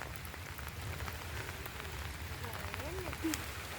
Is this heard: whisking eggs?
no